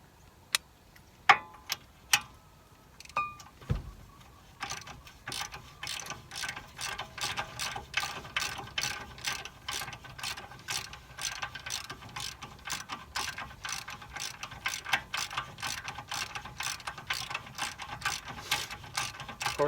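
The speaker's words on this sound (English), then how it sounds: "It was fairly easy to get started, so I'll switch over to my ratchet." Ratchet wrench loosening a ball joint nut on a 1994 Ford F250, a steady run of rapid, evenly spaced clicks close by after a few scattered clanks at the start, with no talking.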